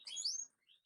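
A pet bird in a home aviary gives a brief, bright chirp followed by a fainter second call, heard close and alone in near silence.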